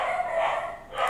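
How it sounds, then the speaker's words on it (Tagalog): Neighbourhood dogs bark in a muffled, continuous stretch from a distance outside, heard alone behind a quiet room. "Sorry sa mga aso ng kapitbahay namin."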